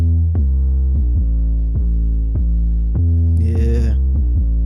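A solo electric bass line in a simple beat, slightly distorted by plugins, plays evenly spaced deep plucked notes in a steady groove, with a brief brighter buzzing accent near the end.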